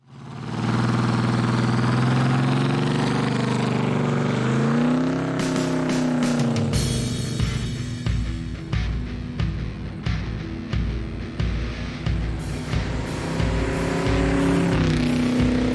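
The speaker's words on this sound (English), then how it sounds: "I just kind of took it around the block, and definitely is running a little rough." A Jeep Cherokee with the 4.0L engine runs a little rough while driven around the block, its loud, steady engine note changing pitch as it shifts and accelerates, with uneven pulsing in the later part.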